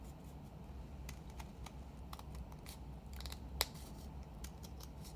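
Scissors snip through paper while an op art spinner is being cut out, giving a run of crisp, close, quiet cuts and rustles with one sharper snip partway through.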